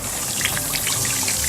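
Thick slime poured out of a bucket, giving a steady wet, gloopy pouring and trickling sound with faint splatter, moderately close and without voices.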